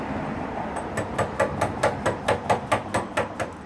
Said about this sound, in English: as you chisel across.